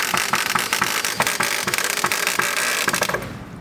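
A power drill whirs and rattles in a steady, close, loud run as it drives a screw into a wooden chicken coop being renovated, then winds down at the end.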